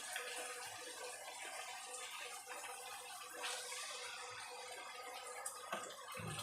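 Water poured into a pan of spices while cooking mutton curry, a faint, steady running splash and trickle heard alone at low volume.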